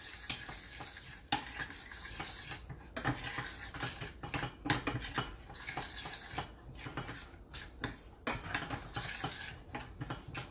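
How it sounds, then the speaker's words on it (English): A spoon steadily stirs an oat and chocolate mixture in a pot on a burner, giving continuous close scraping and clinking against the pot with a faint sizzle underneath and no talking. "So we'll just stir this up."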